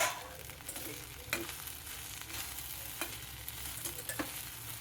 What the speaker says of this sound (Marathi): पाच मिनटानंतर झाकण काढते आणि मिक्स करून घेते